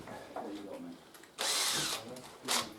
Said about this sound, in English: really important to make sure you counter drill all the way through